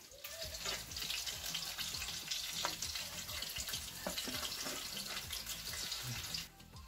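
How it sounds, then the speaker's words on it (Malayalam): Chicken wings frying in hot oil give a steady, dense sizzle with crackling pops, close and fairly loud throughout, with occasional clinks near the end. "ഇപ്പോൾ ചിക്കൻ വിങ്സ് നല്ലതുപോലെ ഫ്രൈ ആയിട്ടുണ്ട്"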